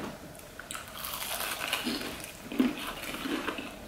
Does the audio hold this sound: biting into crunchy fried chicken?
yes